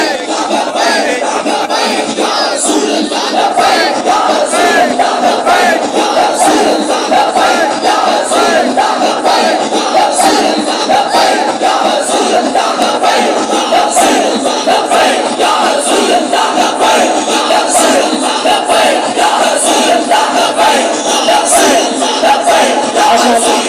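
A large crowd at a religious gathering for 12 Rabi ul Awal loudly and continuously chants the slogan Labbaik, a dense, rhythmic roar of many voices sustained for over twenty seconds.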